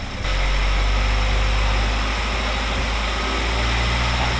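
Mazdaspeed 3 with a failed clutch slave cylinder idles steadily up close, a loud continuous low rumble with a constant drone and no talking over it.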